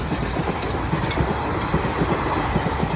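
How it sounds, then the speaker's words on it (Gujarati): A train rumbles past close by, a continuous heavy roar with rhythmic clattering of wheels on the rails. "ફાઇનલ આપણે આવી ગયા ટ્રેન પાસે. આ જો ટ્રેન જીક જીક જીક જીક જીક જીક"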